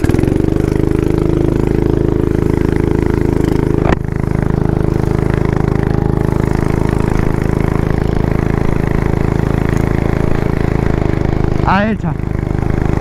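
A motorized beer crate with a 270cc engine runs loudly and continuously close by, holding a droning mid-pitched rumble with a brief dip. A short rising rev comes near the end.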